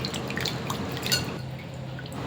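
Water splashes and trickles into a bowl of basmati rice being washed, a steady close wet pouring and dripping texture that continues throughout without speech.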